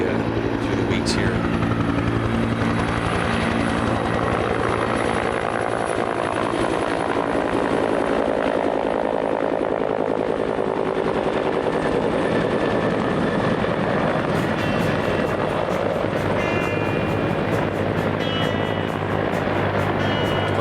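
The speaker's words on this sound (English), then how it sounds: "A lot of different choppers used through the weeks here." Helicopters fly over a wildfire, their rotors beating in a continuous loud whir that holds steady throughout, with voices talking now and then under the engine roar.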